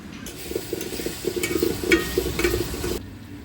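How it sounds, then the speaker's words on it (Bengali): Fried eggs being stirred and sautéed in a pan for egg curry, with a steady sizzle and a few sharper scrapes of the spoon over about three seconds. "এই তো ডিম ভাজা শেষ, এখন জাস্ট ভুনা করে ফেলবো।"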